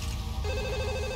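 In the video game Max Payne 2, a telephone rings with a bright, sustained electronic trill, clear and unbroken across the short moment, with no talk over it.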